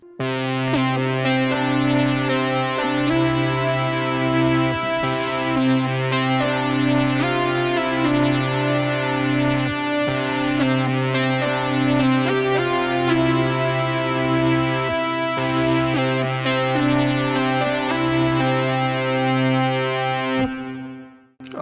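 A rich, warm analog-style synthesizer emulating a Roland Juno plays sustained chords and a moving melody for about twenty seconds, steady and loud, ending with a quick fade.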